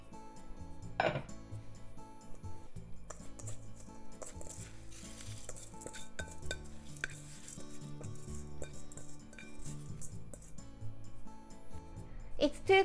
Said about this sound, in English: Let's put the rice in the pot.